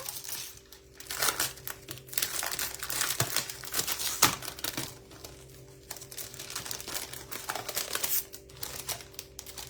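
Foiled specialty designer series paper from a craft pack is handled up close, giving a steady run of crisp crinkling and rustling with sharper crackles and a few brief taps, with no voice over it.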